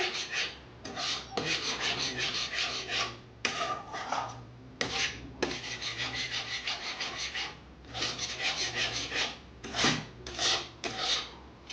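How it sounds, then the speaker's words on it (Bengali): A mango sandesh mixture is stirred in a pan over a low flame, giving close, repeated scraping and rubbing strokes in an uneven rhythm with short pauses. No voice is heard. "আস্তে আস্তে করে নাড়তে থাকতে হবে"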